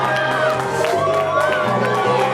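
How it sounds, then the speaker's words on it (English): Wrestling crowd at an ECPW event cheering and shouting as a popular tag team comes through the curtain, a steady dense roar of voices with whoops throughout, with a commentator talking over it. "this crowd is energized the minute these two hit the curtain"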